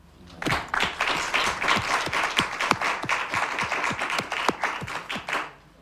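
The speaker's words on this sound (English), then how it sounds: "clap for yourself." Audience applauding a child contestant at a live kids' reality show, a steady run of sharp, close hand claps lasting several seconds before tapering off.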